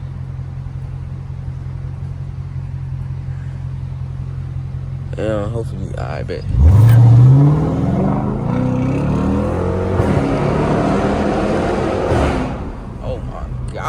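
A car revving and downshifting in a small tunnel at night: a steady low engine drone, then a loud rising exhaust roar that echoes and rumbles on for several seconds. Someone speaks briefly over it.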